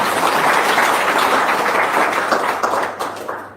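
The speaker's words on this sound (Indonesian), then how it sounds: "Tepuk tangan dong." Audience applause after a motivational talk about getting rich, a dense wash of clapping that holds steady then thins and tapers toward the end.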